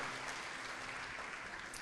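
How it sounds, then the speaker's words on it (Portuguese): Congregation applauding at a church service, a steady dense wash of many hands clapping throughout, fairly quiet and even, with no talk over it. "Você pode aplaudir o Senhor comigo?"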